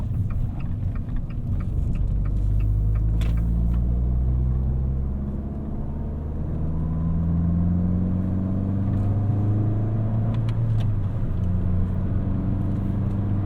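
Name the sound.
2018 Fiat 500 Pop engine rev matching while driving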